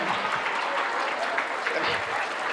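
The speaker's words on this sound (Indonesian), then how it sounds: "Ini yang tepuk tangan biasanya yang tidak dapat bansos" An audience applauds steadily during a sermon, a dense wash of clapping at moderate volume throughout, with no speech over it.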